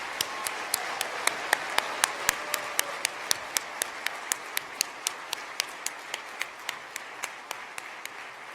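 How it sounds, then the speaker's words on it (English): Audience at a medical school white coat ceremony gives a steady round of applause for the graduating class, a broad wash of clapping punctuated by evenly spaced sharp claps throughout. "Let's give a round of applause for the class of 2023"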